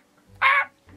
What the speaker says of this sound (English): And the bird noises,